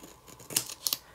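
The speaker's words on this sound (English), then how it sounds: "I've got some snippers. I can just take care of that real quick." Small snippers cut paper for a mini dragon planner kit, two quick crisp snips at close range in a quiet room.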